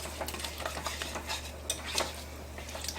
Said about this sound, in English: we're just going to keep stirring until it's smooth and all of the chocolate is melted with all of the butter